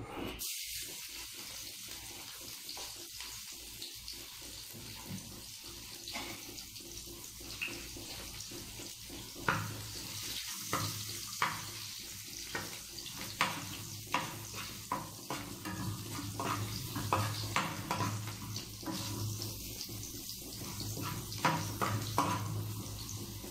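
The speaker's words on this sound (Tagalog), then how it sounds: "Yung kaning lamig isasangag natin." Leftover cold rice stir-fried with garlic, a steady soft sizzle with repeated scraping strokes of a spatula in the pan, fairly quiet and continuous with no talk.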